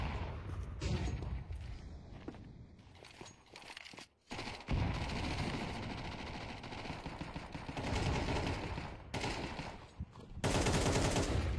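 Video game gunfire during an Eternal Fire versus Basement Boys esports match: bursts of rapid automatic shots and single cracks with brief gaps, loud and close, footsteps in between, over a busy game mix.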